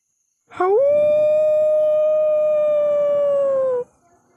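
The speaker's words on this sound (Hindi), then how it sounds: "सियार या फिर कुत्तों का रुदन अब और भी तेज बढ़ता जा रहा था" A single long, mournful howl from a jackal or dog rises quickly and then holds steady for about three seconds before cutting off. It is a loud, clear wail against a quiet background, the kind used in horror stories.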